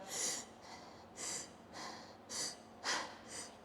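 A person demonstrates distressed, strained breathing of someone unable to get enough air, six quick rasping breaths at a steady rhythm, close and fairly quiet.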